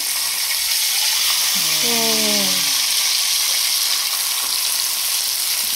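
Fish fries on a hot dosa griddle with a loud, continuous close sizzle, while a brief voice rises over it in the middle.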